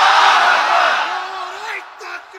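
A large crowd at a Shab-e-Barat religious gathering shouts the takbir in unison: one loud, sustained massed cry that swells and then fades, with a lone voice trailing at the end.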